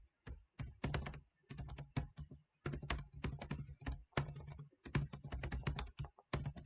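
Python code being typed on a computer keyboard, with rapid bursts of crisp keystrokes broken by short pauses, close and clear, with no voices.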